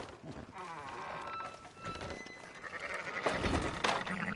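Sheep bleating in a video game, several wavering animal calls mixed with speech and busy game noise, growing louder toward the end.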